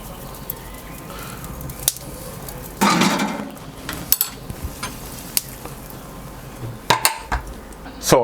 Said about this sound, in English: So I closed the lid of the barbecue